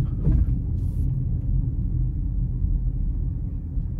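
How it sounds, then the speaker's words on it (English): A 2024 GMC Terrain AT4 with a 1.5-litre turbo engine accelerating gently in all-wheel drive: low, steady cabin rumble from engine and road, heard from inside, with a brief faint voice near the start. "I'm gonna give it a little bit of throttle there"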